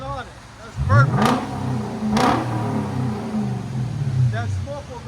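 Close, loud revving from a 2012 Lexus LS 460 4.6L V8 running Dynomax Bullets and a muffler delete, with two or three sharp throttle blips over a rumbling exhaust and voices talking alongside.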